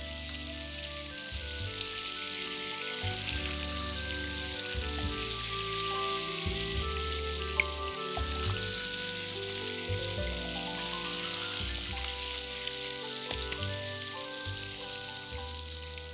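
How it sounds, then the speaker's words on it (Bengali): Chicken frying in leftover oil for a Bangladeshi chili chicken, a steady fine crackle and sizzle running throughout at moderate level with a low rhythmic thumping underneath and no talking. "প্রায় আমার চিকেনটা ভাজা হয়ে গেছে"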